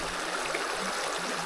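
A gold pan dipped into creek water and lifted out: a constant rushing, gurgling flow that stays close and even throughout, with no voices.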